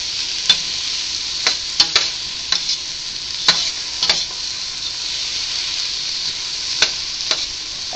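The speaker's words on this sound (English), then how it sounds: "we're going to continue to stir it around" A spoon stirs minestrone soup in a Dutch oven over steady sizzling, with soft irregular scrapes and taps against the pot, close and continuous, no talking.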